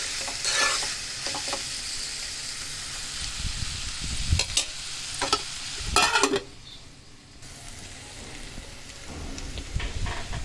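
Cabbage curry being stirred in a pan, with a spoon scraping and clattering in bursts over a steady cooking sizzle, close and moderately loud, with no talking.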